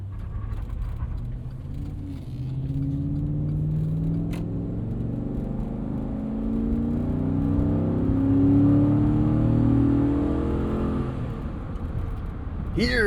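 Inside a 2013 Chevrolet Avalanche, a GMT900 truck with a 5.3-liter V8, the engine rumbles and climbs steadily in pitch as it revs while driving, with a smooth drone under road noise.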